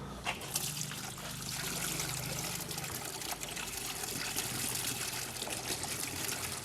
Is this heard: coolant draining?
yes